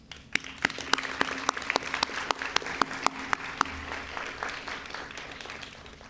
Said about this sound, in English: I want to dedicate the third round of applause to them